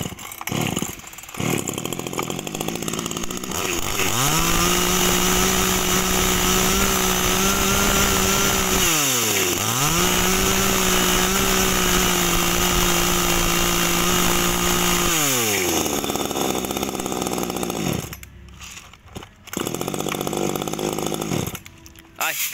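A Tanaka 35cc chainsaw revs loudly and holds a steady high whine, dips briefly, then roars again before cutting off, with short bursts of idling after.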